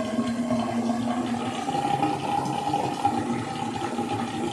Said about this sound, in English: Okay, our cold water is live. Well, we got water.